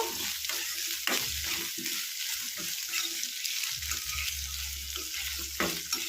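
Potatoes and onions frying in a pan, a steady close-up sizzle with repeated scraping and stirring strokes and low thumps throughout.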